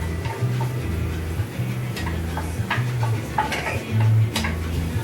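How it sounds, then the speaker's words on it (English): Rough-chopped onion sizzles in a hot pan on a home stove, a steady crackling hiss broken by scattered ticks and clinks of a stirring utensil against the pan. "You hear that sizzle?"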